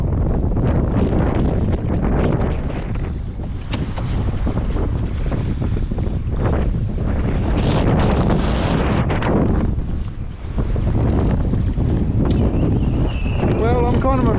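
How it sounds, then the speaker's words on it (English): Strong wind gusts buffet a 16-foot trailer sailer in 37-knot winds near a headland, a roaring microphone-battering blast mixed with water splashing against the hull, while a voice comes through faintly in places. "Here comes another gust."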